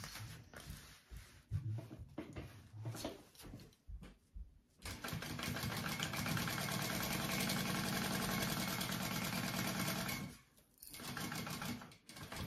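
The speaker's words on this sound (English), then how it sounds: "So I'm going to be sewing down the side, down around the bottom, and back up the other side." A sewing machine stitches down the side, around the bottom and back up a small fold-and-zip fabric backpack, starting with short bursts and then running in a long, steady, close whir before pausing and resuming briefly.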